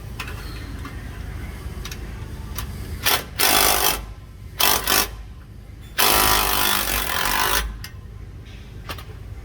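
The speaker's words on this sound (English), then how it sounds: "I'm going to go ahead and use an impact, but be careful not to over torque." An impact wrench drives and tightens bolts on a MagnaFlow Overland Series exhaust being installed. Several short, loud, rattling bursts are followed by one longer run, all close and over a low background hum.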